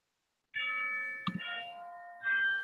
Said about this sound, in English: this doorbell's pretty funny. Keeps going off.